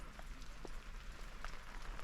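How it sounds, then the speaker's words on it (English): Rain falls on surfaces in Karijini National Park, Western Australia, a steady soft hiss dotted with occasional brief drips, fairly faint and with no voices. "It's raining."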